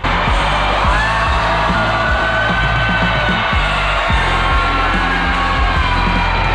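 A loud, sustained yell rings out over a continuous roaring crowd and blaring music, the voice rising and holding in a long, strained scream.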